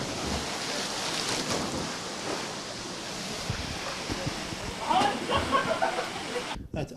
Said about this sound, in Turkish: Alacakaya Şelalesi çok güzel bir yer.